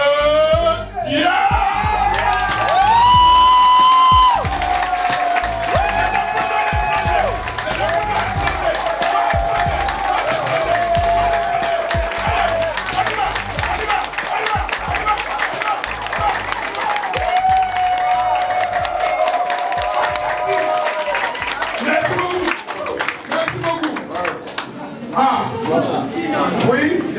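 Crowd cheering and applauding at the inauguration of a company headquarters in Thiès, sustained loud clapping and whoops beneath amplified music and an announcer's voice, carrying on for the full length before fading near the end.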